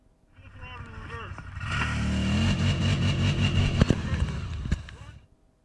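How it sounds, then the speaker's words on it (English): A car engine revs and strains as the car drives into quicksand in Iceland. The roar swells and holds for a few seconds, then fades, with people's voices and shouts over it. "As I'm driving over, I get stuck in the quicksand."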